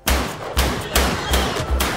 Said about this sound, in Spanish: 2 tíos con 2 trabucos disparan al general.